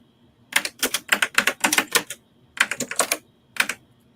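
A keyboard typing effect plays as quick bursts of sharp, clacky keystrokes in uneven runs with short pauses between them, close and clear against a quiet background.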